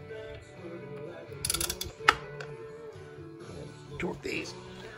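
Bolts on a Swagtron T6 are loosened with a tool, giving quiet ratcheting and mechanical clicks, one sharp metallic snap, and soft handling noises while a person talks nearby.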